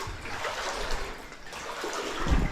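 Someone in hip waders wades through deep water in a flooded mine passage, with soft sloshing and swirling water nearby and a heavier splash at the end.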